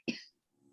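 A single short cough, sharp and close, followed by quiet and faint low background hum.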